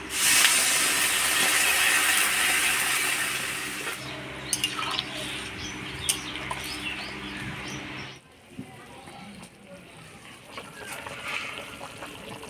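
Water poured into a pan of potato and eggplant curry cooked with fried ground spice paste, giving a loud, steady hiss and sizzle that fades after a few seconds into quieter bubbling with faint scattered clinks.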